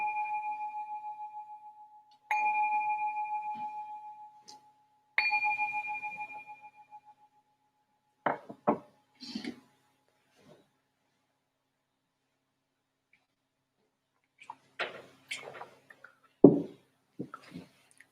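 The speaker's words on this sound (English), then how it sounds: "I'm going to just ring this bell to signal the start of the meditation" Meditation bell struck three times in succession, each clear ringing tone decaying slowly, followed by quiet scattered shuffling and small movement noises.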